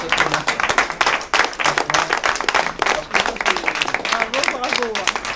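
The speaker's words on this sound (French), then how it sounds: "Ça, on peut l'applaudir." Applause and clapping fill a citizens' meeting hall, a dense steady patter of many hands mixed with overlapping voices and crowd chatter throughout.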